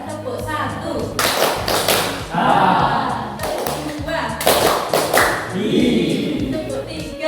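Seated participants at an Indonesian training session clap together in short counted bursts, several loud group claps separated by pauses, with chatter and a leader's voice calling counts between them.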